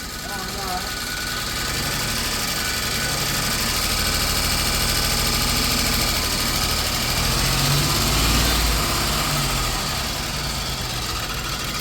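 A 1991 Dodge Grand Caravan SE engine idles steadily and evenly at close range, a continuous low rumble with a fairly even hum, while voices may be faintly present.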